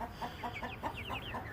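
Young chicks awaiting feed give a run of short, rhythmic clucks and chirps that repeat close by over a low background rumble, with no voices.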